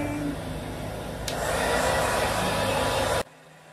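A hair dryer blows steadily on dyed hair, a loud continuous whoosh that swells slightly midway, then cuts off abruptly near the end, leaving quiet room tone.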